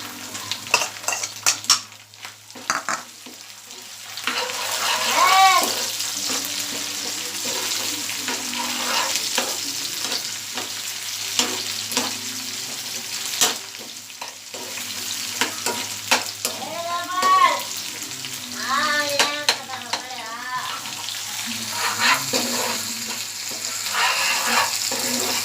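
Tomatoes frying in a pan for rajma, with a steady sizzle under repeated stirring and occasional utensil scrapes against the pan, close and fairly loud throughout.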